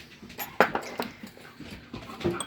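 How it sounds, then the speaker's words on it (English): Excited dogs in a home kitchen while food is prepared let out sharp, high yips and whimpers in quick, uneven bursts, close by and fairly loud. "And the dogs are going crazy."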